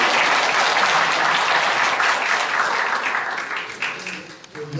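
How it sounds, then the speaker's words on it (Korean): Audience applause at a regional panel forum in a chamber of commerce hall, a dense, steady clapping from a large crowd that holds strong and then thins and fades toward the end. "우리 큰 박수로 다시 한번 해주십시오."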